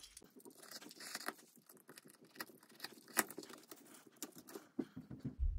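Cutting through the metal housing of a Magnefine inline transmission filter after about 43,000 km of use, heard as close, irregular crunching and snipping scrapes with sharp ticks and a louder burst near the end, no talking.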